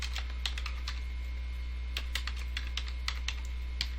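Quick, irregular keystrokes on a computer keyboard typing a data label into a touch screen template, crisp close clicks in short bursts over a steady low electrical hum, with no voices.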